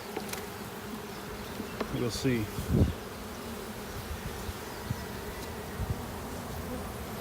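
A dense, steady buzz of honey bees working on the comb inside a hive at a college bee lab, continuous and close, with a brief spoken phrase near the start.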